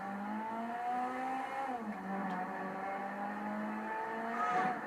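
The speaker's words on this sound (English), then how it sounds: "Let's go ahead and rev the engine up a little bit." A Dinka Blista Compact car engine in a video game drones steadily at moderate pitch, dips once and climbs again, with a faint tire-like squeal near the end; no voices.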